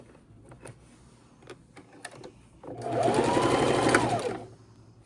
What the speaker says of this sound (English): let's start sewing these together